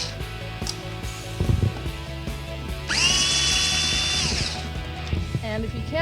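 A power drill backs screws out of a Jeep TJ light cover, a brief high whirring burst that spins up and winds down, amid handling clicks and light mechanical noise close by.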